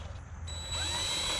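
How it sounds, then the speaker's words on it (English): A power drill with a 3/16 bit bores a small hole in a metal bracket for a JLT oil separator catch can. The drill gives one steady, close whine that starts after a brief pause and runs to the end. "So just hold that on there, drill a little hole,"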